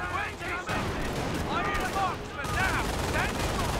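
Machine gun fire from an MG in a Company of Heroes 4v4 battle, a steady rattling burst running continuously under the din of combat effects.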